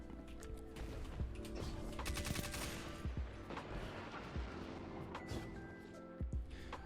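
Aggressive-frame weapon firing in Destiny 2 Gambit, heavy punchy shots in rapid clusters and steady bursts, loud and close, with dense game action layered around them.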